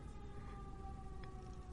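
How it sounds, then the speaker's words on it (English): Emergency vehicle sirens wail faintly in the distance, thin steady tones held over a low rumbling background, quiet and without voices. "We hear sirens."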